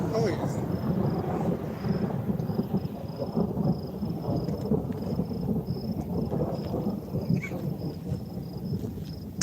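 Thunder rumbles through a storm over eastern New Mexico toward the Texas Panhandle, with steady rain hissing underneath and a faint high insect chirp running throughout.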